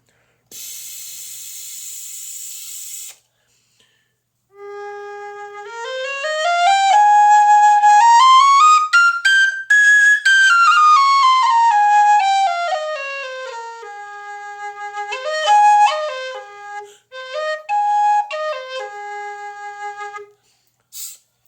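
A Dante alto whistle plays a loud, close melody. Clear tones rise to a peak and descend, followed by a few shorter phrases. A breathy hiss comes first.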